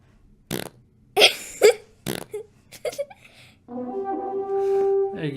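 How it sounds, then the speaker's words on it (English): Fart sound effect played during a tabletop role-playing game session, several short bursts of raspy blats with pauses, then a longer sustained tonal buzz at the end. "So when does the fart sound happen?"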